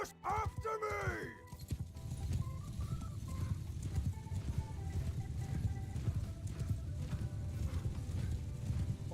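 Horse hooves clip-clop steadily in Mount & Blade II: Bannerlord, with a neigh at the start, then continuous hoofbeats over a dense battle-game soundscape.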